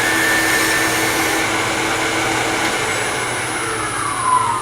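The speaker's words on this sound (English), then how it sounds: "Back to my skew chisel." A skew chisel cuts wood on a spinning lathe, squaring a corner on a turning project. It produces a loud, continuous, steady whirring hiss that runs unbroken throughout, with no voices.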